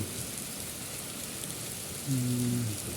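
Heavy rain falls in a steady, dense outdoor hiss, continuous and even throughout, with a short low tonal sound rising briefly over it near the end.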